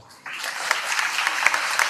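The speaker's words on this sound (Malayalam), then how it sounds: "കൈയടിക്കണം എന്നാലേ ഞാൻ പാടത്തുള്ളൂ" Audience clapping at a small indoor gathering with singing, a dense steady patter of many hands starting abruptly and continuing evenly at moderate loudness.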